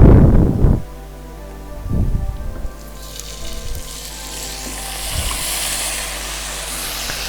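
Tomatoes dropped into ginger and garlic already frying in a pan for vegetable biryani, giving a few clattering bumps and then a soft, steady hiss of sizzling oil, close and moderately loud, with no talking.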